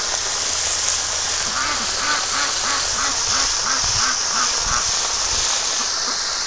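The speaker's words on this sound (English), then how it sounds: "the ducks keep getting in front of me because they want to get sprayed" A quick run of about a dozen duck quacks rises close by over a steady hiss of spraying water, then the calls fade and only the spray continues.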